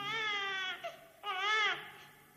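A small baby cries in a cradle in a Slovak audio fairy tale, giving two clear wailing bursts separated by a short catch of breath, heard alone without any talk.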